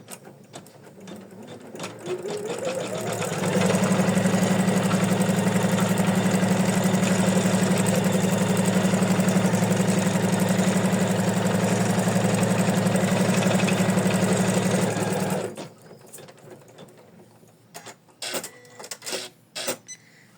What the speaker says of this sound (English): So next we gotta stitch the placement line once again.